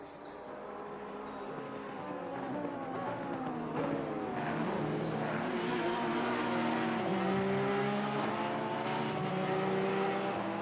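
Race cars, including a Honda and a Ferrari, in a racing video game endurance event at Zolder. Engine tones drone and rise and fall steadily, with pitch sweeps as cars shift and pass, loud and continuous without talk.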